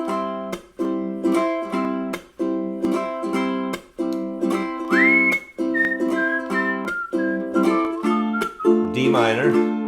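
Whistling carries a short melody over a strummed ukulele at a play-along session, the chords sounding in a steady rhythm and the clear whistled tune rising and gliding in the later half.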